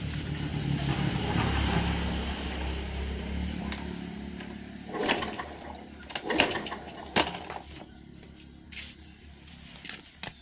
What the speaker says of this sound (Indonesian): Ini saya engkol dulu.